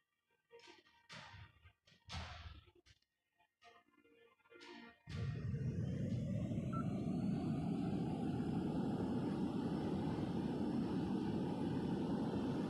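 An Airbus A380 airliner engine in the video game Airline Commander, first a few clicks and short bursts, then a loud steady roar and rush that holds without a break to the end.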